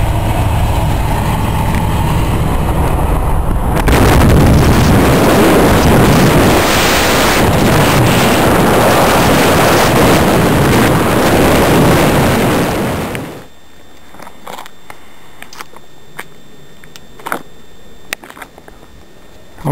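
A 1960 Chevy truck drives up Chaffee County Road 306 in the mountains, a loud, steady roar mixed with wind buffeting that suddenly drops away to near quiet with a few faint knocks.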